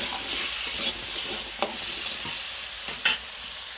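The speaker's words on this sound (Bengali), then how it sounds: "ভালো করে নুন হলুদ দিয়ে ভেজে নিচ্ছি।" Potato pieces frying in oil in a karahi with salt and turmeric, giving a continuous bubbling sizzle while a spatula stirs and scrapes the pan now and then, with a few sharper clacks standing out.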